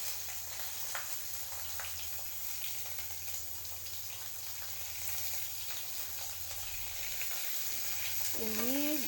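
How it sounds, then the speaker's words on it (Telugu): Finely chopped onions fry in a pan with a steady, close sizzle and light stirring scrapes throughout, continuous and moderately loud with no talk over it. "ఇవి గోల్డెన్ కలర్ వచ్చేదాకా ఫ్రై చేద్దాం."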